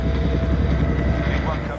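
A helicopter dropping sand and clay over the damaged Chernobyl reactor drones loudly and continuously, a dense steady rotor and engine roar with no voices.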